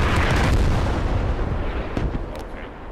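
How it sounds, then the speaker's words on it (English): Artillery shelling in the military shooter Squad arrives as a loud, rumbling barrage of deep booms and explosions that rolls on heavily before easing slightly, with a few crisp pops near the end. "the artillery taking out all those entrenchments it's fucking up my system"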